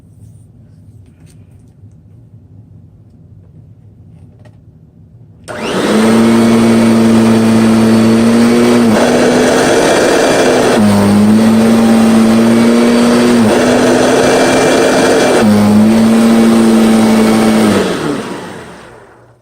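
A Kirby G6 vacuum cleaner with a wider nozzle starts up on carpet and runs loud and steady, its motor whine rising and dipping slightly as the nozzle is pushed back and forth, then cuts off at the end.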